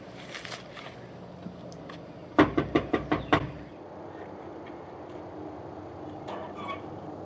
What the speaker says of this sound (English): I'm gonna go knock on the door.